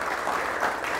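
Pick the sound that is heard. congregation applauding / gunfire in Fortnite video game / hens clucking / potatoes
congregation applauding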